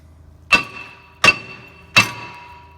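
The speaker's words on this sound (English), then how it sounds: "give it a couple little whacks" Three sharp metallic hammer strikes on a stuck brake rotor of a Fiat 500, evenly spaced and ringing briefly, close and loud in an otherwise quiet garage.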